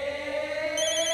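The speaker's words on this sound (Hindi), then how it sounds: "फोन तो मेरे पर्स में बज रहा है" A mobile phone rings from inside a purse, its electronic ringtone steady and fairly loud with a sustained tonal pattern and a brighter melodic layer entering near the end, no talk over it.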